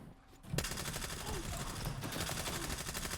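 An SMG fires from the hip in Stalker 2, a near, unbroken stream of rapid automatic shots that holds steady for about three seconds after a short quiet start.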